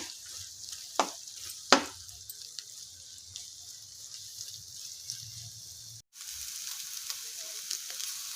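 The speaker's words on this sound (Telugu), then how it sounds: "మీడియం ఫ్లేమ్ మీదే బాగా ఫ్రై చేసుకోవాలి" Ridge gourd and egg fry quietly over a medium flame, giving a soft steady sizzle with a couple of sharp clinks from a spatula against the pan.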